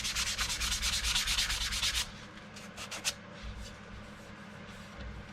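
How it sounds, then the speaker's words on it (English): Sandpaper rubbing on a nitro lacquer finish on a guitar body, rapid rhythmic back-and-forth strokes close up for about two seconds, then a few softer, sparser scrubs before falling quiet. "I will see how all these materials work with sanding paper and sanding sponge."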